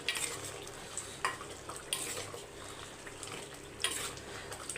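Chicken gravy is stirred in a pan, soft bubbling and simmering under a few louder scrapes of a spoon against the metal, close and fairly quiet.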